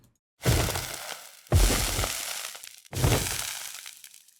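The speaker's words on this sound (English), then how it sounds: "And then a sound for when the mice are hit." Video game effect for mice being hit: three separate crunchy impact hits, each a sharp smash with a short fading tail, spaced about a second apart.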